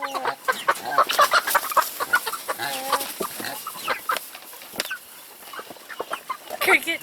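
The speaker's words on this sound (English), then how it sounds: "these guys are black copper Marans" Black Copper Marans chickens cluck and chatter close by, a busy run of short, uneven calls with a few louder squawks, over faint background rustling.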